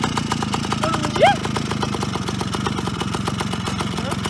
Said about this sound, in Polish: Gazu daj, Janek, gazu